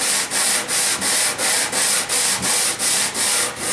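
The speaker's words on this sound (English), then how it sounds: "take one of your jaws, place it on the sheet of sandpaper, and just rub back and forth on it" A wooden handscrew clamp jaw is rubbed back and forth on a sheet of sandpaper atop a workbench, giving about ten steady, evenly paced rasping strokes, close and alone.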